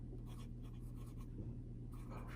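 A Pilot Vanishing Point pen with a broad nib writes on paper, making soft, close scratching strokes in short bursts. The strokes sit over a steady, low background hum and are quiet throughout.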